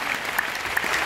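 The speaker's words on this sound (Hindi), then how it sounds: "जैसा रहा वैसा, जोरदार ताली" Applause from an audience at a DXN business meeting, a brief burst of dense crowd clapping, steady and moderately loud, with no talking over it.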